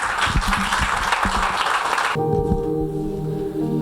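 Church congregation clapping at a Good Friday service as a young woman is called up to speak; dense, loud applause for about two seconds, then it cuts to quieter sustained tones.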